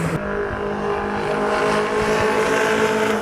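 Loud, sustained engine roar of vintage race cars on a track at Drive Festival 2024, engines droning and revving steadily close by.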